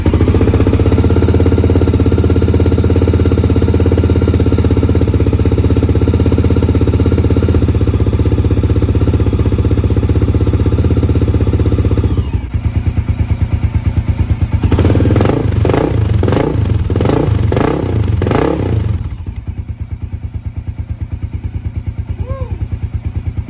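Honda XR650L single-cylinder motorcycle engine fitted with an aftermarket XR's Only exhaust, idling with a loud, steady thumping beat, then blipped through a few revs before settling back, close by.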